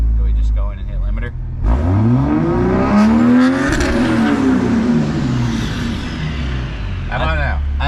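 A 5.9 engine in a single-cab flatbed truck revs hard up toward the limiter, pitch climbing then falling back, loud and close at a race, with voices talking around it.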